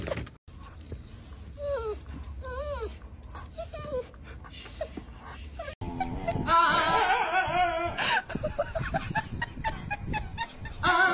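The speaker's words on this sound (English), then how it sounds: "Oh, it's a chicken." A chicken clucks in short, wavy bursts close by, mixed with a dog's whimpering and some background talk.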